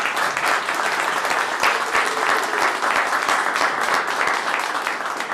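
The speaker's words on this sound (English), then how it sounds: "Please give them a round of applause." A crowd at a public event applauds honored community members from Coney Island, a dense, steady clapping that fills the room at an even level throughout without pause.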